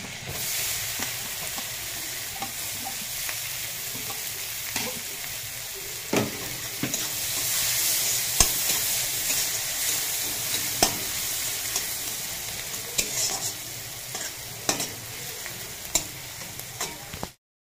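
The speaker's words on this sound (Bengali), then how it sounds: "পেঁয়াজটা লাল লাল করে ভাজা হয়ে গেছে" Chopped onion fries in melted butter with a steady hiss and crackle, stirred now and then with soft scraping knocks, close and continuous without talk.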